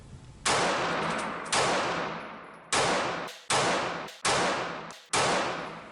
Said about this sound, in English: I'll shoot one more magazine. We'll stay at 35 feet, and I'll speed up a little, what I call controlled rapid fire